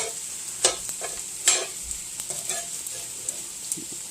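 Ham and cheese omelet cooking in a hot pan, a soft continuous sizzle under a few sharp clinks and taps of a utensil against the pan, close by and without speech.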